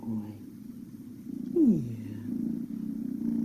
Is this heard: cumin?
no